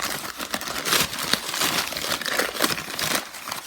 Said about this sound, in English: Here comes the crinkling paper.